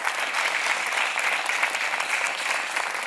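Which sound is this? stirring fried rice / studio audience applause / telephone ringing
studio audience applause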